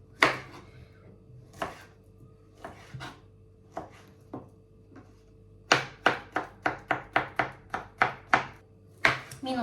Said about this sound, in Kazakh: Енді бананды турап салатын боламыз.